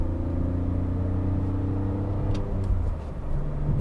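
A manual car's engine climbs steadily in revs, dips as the driver shifts up a gear, then pulls again at a lower note, heard close and steady from inside the car.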